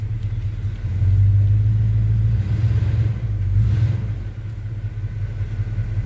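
A 1978 GMC C15 pickup's engine rumbles low and steady while the truck backs up slowly, swelling a little louder for a few seconds mid-way before settling back to an even idle-like drone.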